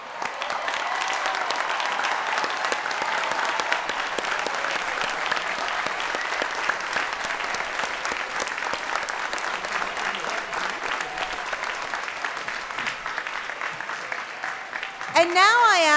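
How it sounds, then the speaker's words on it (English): Sustained, even applause from a large audience at a 2013 university graduation ceremony honoring magna cum laude graduates, continuing steadily for many seconds before a brief voice breaks in at the end. "Now I ask that all students who are graduating magna cum laude stand and be applauded."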